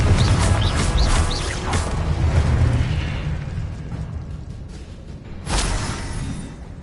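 Blasts from the Confringo spell in Hogwarts Legacy, a loud rumbling explosion with crackling bursts early on that fade, followed by another sharp burst near the end.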